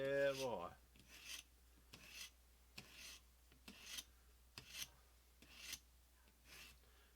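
A knife is sharpened on an Edge Pro sharpener with repeated rasping strokes of the stone along the blade, about eight evenly spaced scrapes, close and fairly quiet, with a brief tonal sound at the start.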